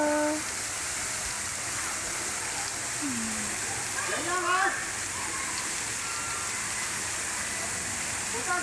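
A fountain splashing without pause, a broad steady wash of falling water up close, with people talking intermittently over the spray.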